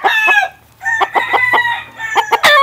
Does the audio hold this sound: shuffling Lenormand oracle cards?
no